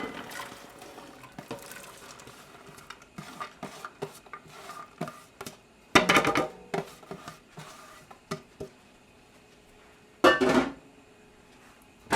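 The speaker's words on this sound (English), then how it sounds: "So now we can get our corn and add that to the pan." Corn tumbles into a pan with smoky bacon, giving a series of sharp clatters, wet splashes and scraping taps, with two louder, denser bursts of pouring and sizzling partway through.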